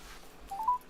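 A phone number is dialed on a telephone keypad, producing a short quick run of a few faint DTMF beeps in rising steps.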